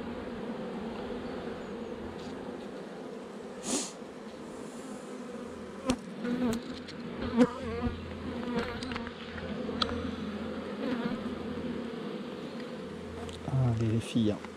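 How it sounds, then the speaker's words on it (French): Honeybees hum steadily in a spring nucleus hive during an inspection, a dense continuous drone with occasional louder passes of single bees near the listener. "Les abeilles en pleine forme, semble-t-il."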